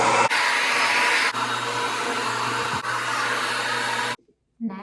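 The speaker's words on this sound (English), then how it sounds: "I use hair blow dryer and a straightening iron." A hair blow dryer runs with a loud, steady broadband rush for about four seconds, with a couple of brief dips, then cuts off into near silence before a short burst restarts at the end.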